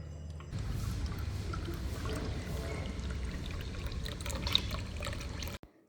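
Cold water pours steadily into tomato juice, a continuous close splashing trickle that runs for about five seconds before cutting off abruptly, with no talking.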